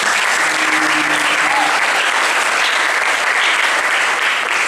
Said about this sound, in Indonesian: Terima kasih. Tepuk tangannya dong.